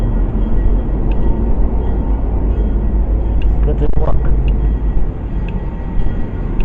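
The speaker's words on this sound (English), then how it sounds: "The train is here." A loud, steady rumble of a Florida Gulf Coast Railway train rolling past nearby at a railroad museum, continuous and heavy, with people speaking briefly over it.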